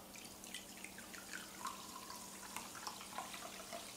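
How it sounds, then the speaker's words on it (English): One cup of ice-cold sparkling water is poured into a flour batter in a bowl for coconut gar bites, producing faint fizzing, trickling and dripping sounds over a low steady hum. "And then we're going to add 1 cup of sparkling water."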